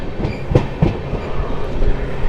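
A passenger train runs on the rails near Tundla, with a steady rumbling roar and a few rhythmic clicks of wheels crossing rail joints, heard close from inside.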